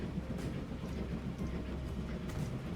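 A yellow train passes in the video game Transport Fever 2, a low, steady rumble of rolling rail traffic at moderate volume with no talk over it.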